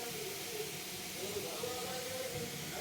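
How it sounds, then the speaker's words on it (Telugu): Curry leaves and asafoetida temper in hot oil with a constant, fairly faint hiss and sizzle that holds steady without any distinct pops. "కరివేపాకు, ఇంగుతో పోపెట్టుకుందాం."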